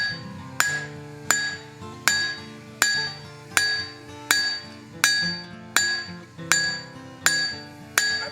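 A hand hammer strikes a hand-forged axe on the anvil in a steady rhythm of about eleven loud ringing blows, each a sharp metallic clang with a bright decaying ring, roughly one every three-quarters of a second.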